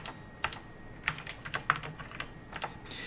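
Someone enters figures on a computer keyboard in scattered bursts of crisp, close key clicks, with short pauses between keystrokes and no talking.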